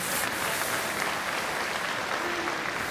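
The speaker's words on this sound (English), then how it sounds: "Every shot being applauded by the crowd here" Broad, steady applause fills an arena after a shot in the 2013 European Curling Championships men's final between Norway and Switzerland, even and sustained throughout with no voices on top.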